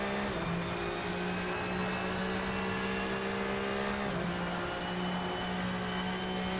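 Race car engine heard from inside the cockpit in the RaceRoom racing game, a loud steady drone holding a constant pitch with a brief shift partway through, continuous and without talk.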